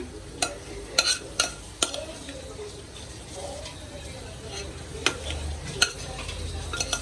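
A spoon stirs caramelized ingredients and dry fruits in a pan for a Christmas plum cake, giving soft scraping and a low sizzle, punctuated by several sharp clinks of the utensil against the pan.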